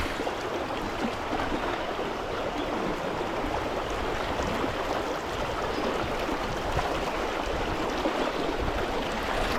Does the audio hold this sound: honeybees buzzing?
no